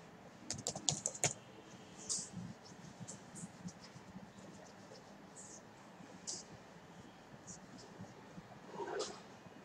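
Computer keyboard typing comes in quick clustered bursts of key clicks with pauses between, fairly close over a faint background hiss.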